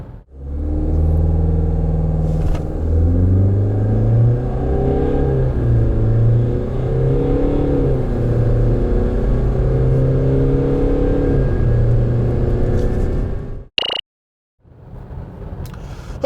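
A Renault QM6 (Koleos) with an uprated 2-litre diesel engine and SCR accelerates hard. Its loud, close engine drone climbs steadily in pitch through successive gear steps, then cuts off abruptly near the end.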